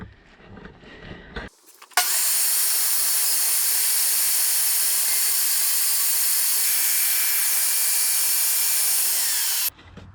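Table saw ripping crown molding held at 45 degrees against the fence, a loud, steady high whine that starts abruptly and holds for about eight seconds before cutting off.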